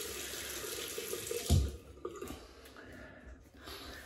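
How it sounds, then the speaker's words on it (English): Hot water runs from a tap to warm a safety razor head, a steady splashing stream with a louder gush in the middle, then easing off. "Heat the head of the razor up in hot water."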